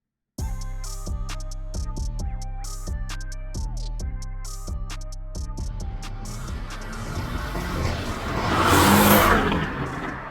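A Stage 2 remapped Porsche 718 Boxster revs hard on a dyno in repeated full-throttle pulls, its engine note climbing steadily and loud, then swelling into a roaring peak before easing off.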